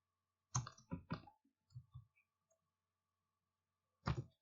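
Keys click on a computer keyboard during a WordPress and XAMPP setup: a few crisp, close taps in a quick cluster, softer scattered clicks, a pause, then a final firm press.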